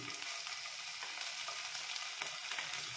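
Small fish heads fry in hot oil, a soft, steady crackling hiss that holds evenly throughout, with a faint click near the end.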